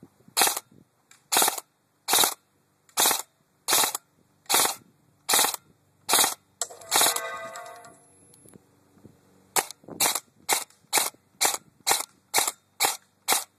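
An airsoft gun is fired repeatedly in a backyard, producing sharp, evenly spaced snapping shots in two rapid strings, separated by a brief mechanical rattle.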